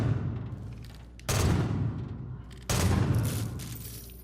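Two sharp, heavy gunshot blasts from a video game, spaced a little over a second apart, each ringing into a decaying rumble under steady background noise.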